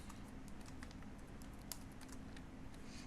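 Rapid, quiet clicking of computer keys, a steady irregular patter of keystrokes close by over a low hum.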